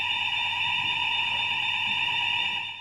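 A building alarm sounds a steady, continuous electronic tone, unbroken and fairly loud, with no voices over it.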